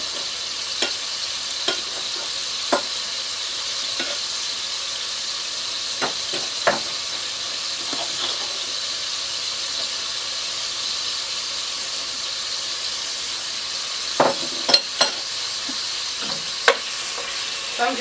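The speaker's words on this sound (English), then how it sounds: "I'm just kind of browning it in the lard, just to get a little browned around the edges" Beef browns in hot lard in a pot with a steady, even sizzle and hiss, broken by occasional sharp clinks and scrapes of stirring, close and without speech.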